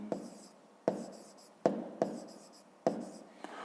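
Pen strokes scratching on paper while a Grade 5 maths diagram exercise is written out, several short separate bursts of writing at close range with pauses between them and no talk.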